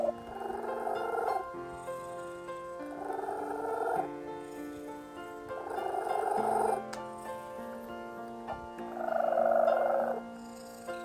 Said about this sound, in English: most agreed it was closest to a pigeon's soft cooing